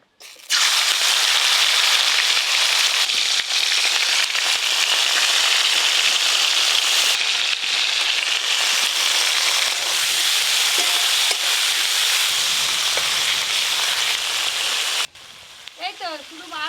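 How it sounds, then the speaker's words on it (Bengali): Shrimp frying in hot mustard oil, a loud, dense, continuous sizzle and crackle filling the whole stretch, easing slightly near the end, with no talk over it. "তেল গরম হয়ে গেছে, প্রথমে চিংড়ি মাছগুলো ভাজা করব।"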